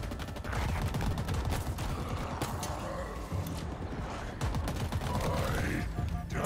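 Rapid bursts of gunfire from the video game Halo Infinite crackle in quick, dense volleys with mechanical clatter, fairly faint and continuous across the clip.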